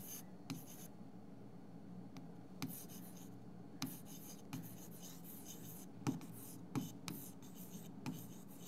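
Marker or chalk writing on a board during a data structures lesson, a steady run of short scratching strokes with brief pauses between them, close and quiet with no speech.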